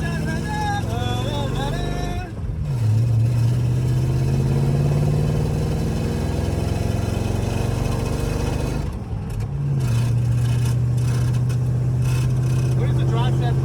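A barn-find 1958 Plymouth engine idles with a steady low drone, then revs up twice into a rising, sustained pull as the car takes off; voices talk briefly at the start.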